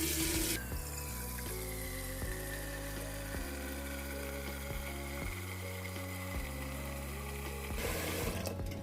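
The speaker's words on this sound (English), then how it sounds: "I always start off like my whole method with filling this half full with hot water" Hot tap water runs steadily into a big cooking pot, a continuous splashing rush that starts abruptly, fills the pot for several seconds and cuts off near the end.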